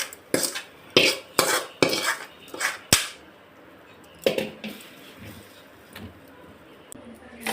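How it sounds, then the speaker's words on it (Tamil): Sliced onions being stirred into adai dosa batter with a spoon in a bowl, giving a series of close, wet scraping and clinking strokes in an uneven rhythm, pausing briefly before a few softer stirs. "நம்ம ஸ்டவ் ஆஃப் பண்ணி இந்த வெங்காயம் எல்லாம் போட்டு எல்லாம் மிக்ஸ் பண்ணிடலாம்."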